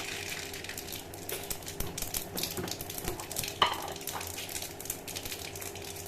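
Mustard seeds crackling in hot oil for a raw banana and dal kootu, a steady close sizzle dotted with small pops and a brief clink of a utensil, no voices.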